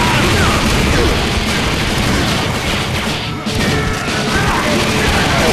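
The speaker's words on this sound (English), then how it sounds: "Ah, bombs!" Bombs explode in the video game Painkiller Redemption as loud crashing booms over a dense wall of game sound that runs throughout, dipping only briefly.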